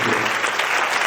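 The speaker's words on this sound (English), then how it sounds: "That is the clapping, regular clapping." Audience applause at a symposium inauguration, dense steady clapping from a full room, loud and close throughout the brief moment.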